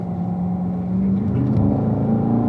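A car engine pulling hard on a race track, a steady loud drone rising in pitch as it accelerates and shifts up into fourth gear, heard from inside the cabin.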